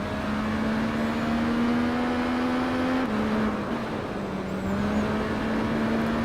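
Motorcycle engine in the Tourist Trophy racing game, a Triumph bike, holding a steady loud drone with shifting pitch as gears change around the three- and four-second marks, continuous and close with no talk.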